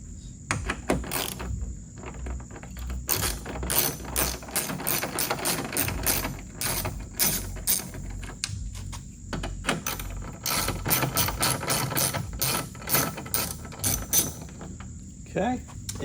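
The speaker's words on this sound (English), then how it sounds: "We're going to undo the two bolts that are clearly visible right at the top" A ratchet with an 8mm socket undoes the top headlight bolts on a BMW E46, giving rapid, loud pawl clicking in repeated bursts close to the listener, with brief pauses between strokes.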